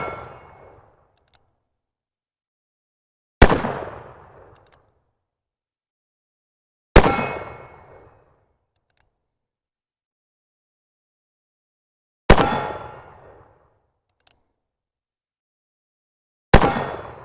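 Four loud metallic clangs of bullets from a Cimarron MP523 revolver in .44 WCF, black powder loads, striking a steel target plate, each ring decaying over about a second, separated by several seconds of near silence.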